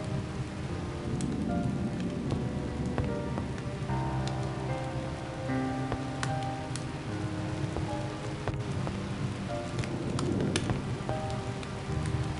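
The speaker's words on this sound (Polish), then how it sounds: "Chyba pada dzisiaj." Steady rain falls during a storm, a constant hiss dotted with sharp drips and patters on nearby surfaces, moderately close and continuous, with no voices.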